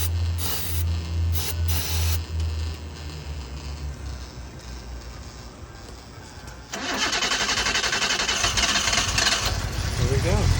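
A 1976 Datsun 280Z engine cranks and sputters on starting fluid, then catches and runs at a loud, steady idle close by. Its sound rises sharply partway through.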